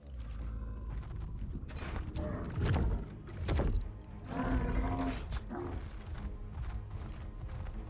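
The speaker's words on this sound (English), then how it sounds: "they are actually farming metal with their head, like with their front part, which makes it much faster to actually harvest" Edmontonia in the video game Ark Ascended harvesting metal by ramming it with its armored head, producing repeated grinding, creaking impacts and low roaring bursts at moderate loudness, with no talking.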